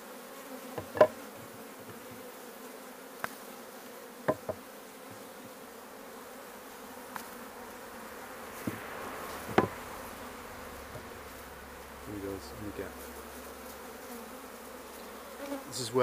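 Bees buzz steadily nearby while being moved from frames into a top-bar hive, with a few sharp knocks and taps breaking through the hum.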